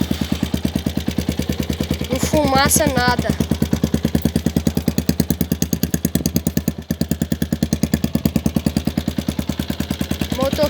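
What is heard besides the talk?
motorcycle engine started and running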